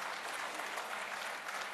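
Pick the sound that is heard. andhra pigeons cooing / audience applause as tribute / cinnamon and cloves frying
audience applause as tribute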